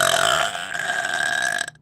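One long, loud, close burp with a strained, buzzing tone that holds steadily for nearly two seconds before cutting off abruptly.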